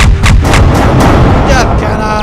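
A death cannon fires in the space game Halcyon 6, a loud, heavy blast with several booming impacts in quick succession over about two seconds, ending in a falling electronic tail.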